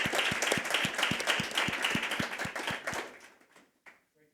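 An audience at a Women in Business event claps for a speaker, steady rhythmic applause from a modest crowd that fades out near the end.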